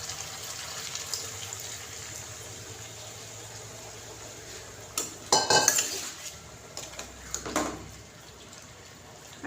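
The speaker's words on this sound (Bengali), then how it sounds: "আর একটু নাড়াচাড়া করে দিচ্ছি।" Tandoori chicken pieces are stirred and turned in a pan after a splash of water, starting with quiet background hiss and then a cluster of loud metallic utensil scrapes and clatters near the end, close by, no speech.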